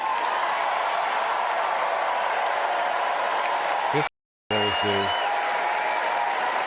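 A large crowd at a speech applauds and cheers in a loud, continuous wash. The applause cuts out abruptly for a moment and then resumes, with a brief voice speaking during the break.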